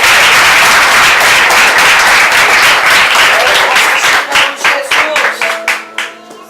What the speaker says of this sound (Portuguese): Aplaude Jesus mais uma vez aí.